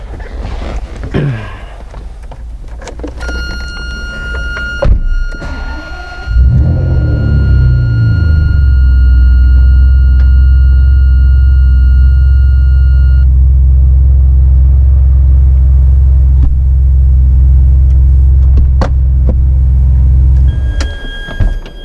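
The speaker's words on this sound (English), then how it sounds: "Just one push of a button, the hard top flips up, and now it's a coupe." An electric motor whirs as the hard top of a 2005 Ferrari 575 SuperAmerica folds into place, with clicks and clunks over a steady, loud engine rumble.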